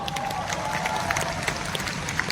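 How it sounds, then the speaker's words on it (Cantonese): A concert crowd at a tour's Malaysia stop applauds in a dense, sustained patter, with a few faint cheers rising through the clapping. "俾掌聲佢好嗎？"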